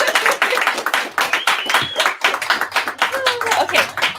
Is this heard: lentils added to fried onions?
no